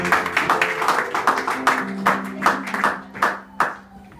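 Church congregation clapping to acclaim the word of God: sparse, distinct handclaps from a small group, irregular and tapering off, with a sustained tone, likely music, faintly behind.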